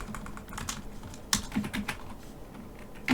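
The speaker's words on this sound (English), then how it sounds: "So sometimes you'll just have to manually type it in" Close, uneven typing on a computer keyboard, with a quick string of key clicks and a few harder taps against quiet room noise.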